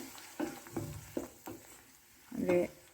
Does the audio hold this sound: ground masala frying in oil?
yes